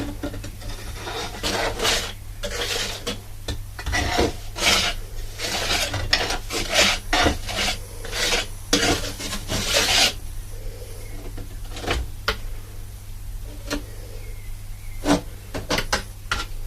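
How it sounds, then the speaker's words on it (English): A flat trowel spreads pointing material along a wall from a Pointsman hawk, making repeated close scraping and rasping strokes in an uneven rhythm over a steady low hum, with no talk. "we're going to use the flat trowel again there, and you just apply the material as you go along"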